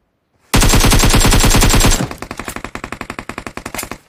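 Loud automatic gunfire in a battle royale shooter match: a dense sustained burst for about a second and a half, then a quicker run of sharp separate shots fading slightly, with no talking.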